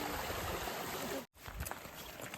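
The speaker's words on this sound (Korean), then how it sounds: "이런 식으로 개울가도 지금 이렇게 건너고 있고요" Mountain stream water flowing steadily during a creek crossing on a snowy hike in the Qinling Mountains, a broad close rushing wash with a brief dropout midway.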